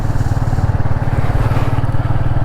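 A Royal Enfield Meteor 350 Supernova motorcycle riding in third gear, its single-cylinder engine thumping in an even, steady rhythm, loud and close throughout.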